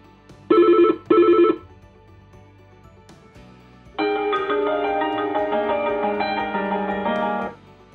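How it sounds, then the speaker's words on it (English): Two short electronic ring bursts, then a longer melodic ringtone sampled on a Yealink VP-59 desk phone plays for several seconds, clear and close, with no talking. "Tap a ringtone to sample it."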